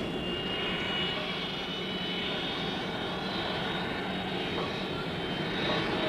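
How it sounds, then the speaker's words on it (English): A jet aircraft takes off from a runway at Changi, producing a continuous loud roar with a high whining edge that holds steady throughout. "jet aircraft take off and land at very high speeds"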